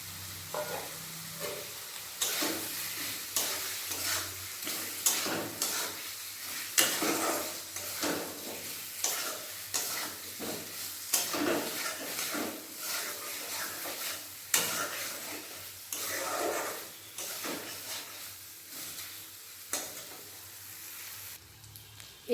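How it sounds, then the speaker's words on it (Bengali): Fried eggs being sautéed with spice paste in a pan, a continuous sizzle broken by rhythmic scraping strokes of a spatula, close and moderately loud with occasional clinks against the pot. "দেখুন মশলার সাথে ডিম ভালোভাবে কষানো হয়ে গেছে"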